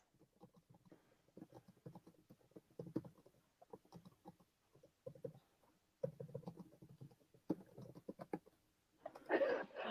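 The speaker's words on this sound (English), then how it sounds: "I can hear Cy typing and it's throwing me off." A computer keyboard clatters in quiet bursts of rapid key taps with short pauses between runs, faint and close, followed by a brief louder noise at the end.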